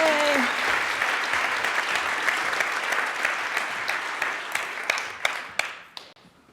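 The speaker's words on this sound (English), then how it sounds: "Please give a warm round of applause to Suze and Mariko." An audience at a conference talk applauds warmly. The dense clapping is sustained, then thins into scattered individual claps before it fades out.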